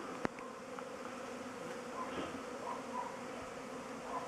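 Honey bees buzzing around an apiary in a field sown with white clover, a soft continuous drone of many insects in the open air, with a brief click near the start.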